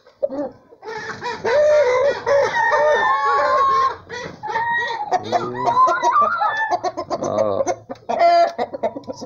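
Several roosters crow loudly and close by while hens cluck around them during feeding, in overlapping calls with short pauses.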